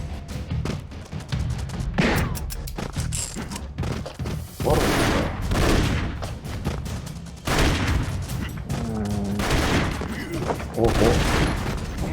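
Bursts of gunfire and explosive booms from the video game Broforce pound continuously, loud and dense, with a voice talking now and then over the shooting.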